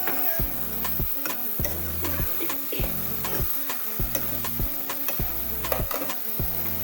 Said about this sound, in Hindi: ये हमने काली मिर्च ऐड की, इसे भी अच्छे से मिक्स करेंगे।